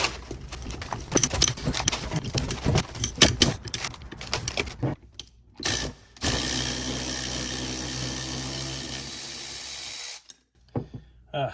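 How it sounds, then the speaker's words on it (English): A power tool rattles and ratchets in rapid bursts, then runs in a steady whirring stretch before cutting off abruptly, while replacing the motor mount on a Porsche Boxster 986. "Power tools for the win."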